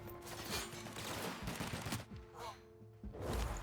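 Gunfire in the video game The Outer Worlds, a quick rattle of shots followed by a pause and a heavier thud near the end, fairly quiet.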